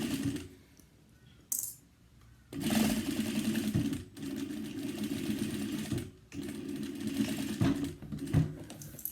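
Sewing machine stitching a zippered cross body bag with four pockets, running in several steady bursts of rapid mechanical chatter, close and fairly loud, separated by short pauses.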